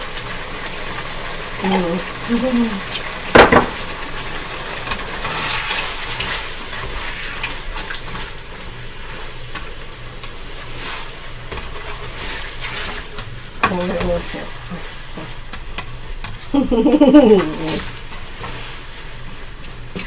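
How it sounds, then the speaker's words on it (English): Korean barbecue-style meat simmering in a pan, a steady sizzle and bubbling hiss throughout with occasional scraping stirs and clatter, close and fairly loud. "Now, you can let this simmer down. Let that simmer."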